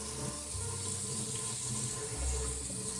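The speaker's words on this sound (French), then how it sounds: "Donc d'abord avec un jet qui diffuse." Steady rush of a diffused spray water jet rinsing a Braumeister automatic brewing vat, continuous and close throughout with a low rumble underneath and no speech.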